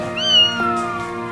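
A rescued cat gives a single clear, close meow that rises and then falls away, heard on its own with no voices.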